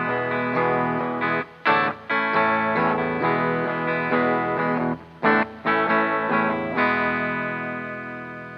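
Electric guitar played through a Boss LS-2 Line Selector into a Blackstar amp on the green channel with the volume near zero, an effected chorused tone with sustained chords and short rhythmic breaks, close and alone.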